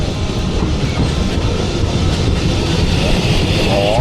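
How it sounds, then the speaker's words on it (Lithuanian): A steam-powered train rolling past on the railway, loud and close, with continuous rumbling clatter of wheels on track and faint wheel squeals near the end. "Važiuoja mūsų traukinukas jau."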